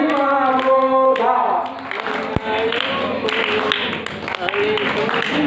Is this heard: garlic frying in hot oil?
no